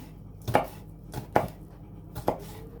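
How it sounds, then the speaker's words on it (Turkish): Three sharp knife chops through fresh green peppers on a cutting board, evenly spaced and close by, with quiet pauses between them. "Taze biberi de yine soğan üzerine doğrayarak ekliyorum."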